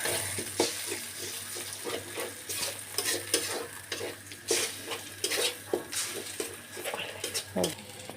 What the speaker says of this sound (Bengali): এখন ডিমগুলোকে ফ্রাই করব।